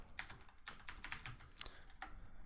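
Quick, irregular keystrokes clatter on a computer keyboard at close range, a steady run of light clicks with a few sharper taps and no voices.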